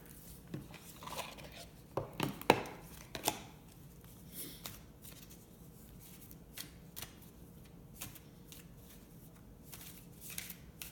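Oracle cards shuffled by hand at a table before a reading, with a soft flurry of riffling and tapping early on, then scattered light card clicks and handling noises, fairly faint throughout.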